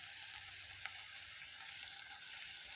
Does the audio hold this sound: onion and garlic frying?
yes